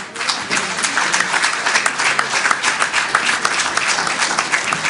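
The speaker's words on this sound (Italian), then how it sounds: "vorrei un applauso particolare" A conference audience claps in dense, sustained applause that fills the room, with no speech over it.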